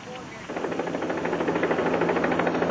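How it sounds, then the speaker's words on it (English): CHP rescue helicopter arriving at a roadside crash scene, its rotor chop fading in and building into a steady pulsing thrum that grows louder. "The CHP helicopter arrived at the scene within minutes."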